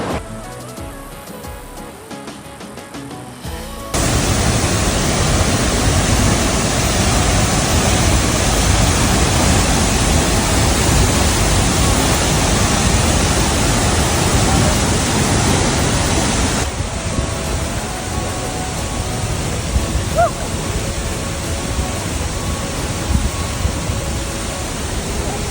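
Roar of the huge La Fortuna waterfall in the Costa Rican jungle, a dense broadband rush that bursts in loud and close after a quieter opening and holds steady, softening slightly later on.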